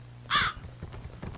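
A single harsh crow caw rings out in the game Vardia, a short close call over a low ambient hum, followed by faint rumbling background sounds.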